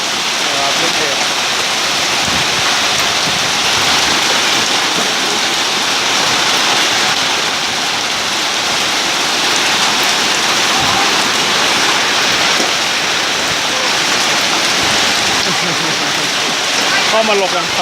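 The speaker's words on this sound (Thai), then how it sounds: "ครับพายุลูกเห็บถล่มไนท์บาซ่าเชียงรายครับงานน้ำแข็งนะ" A hailstorm pelting down at the Night Bazaar in Chiang Rai, a loud, unbroken roar of ice and water striking surfaces throughout, with someone talking over it at times.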